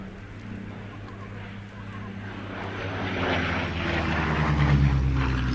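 A propeller aircraft engine at an airshow drones steadily and grows louder toward the end as it approaches, a low buzzing roar in open air.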